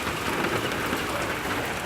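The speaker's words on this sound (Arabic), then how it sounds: "هاي زخة مطر" Rain keeps falling in a steady outdoor shower on Christmas Day, a broad uninterrupted patter of drops on surfaces, fairly loud and close throughout with no talking.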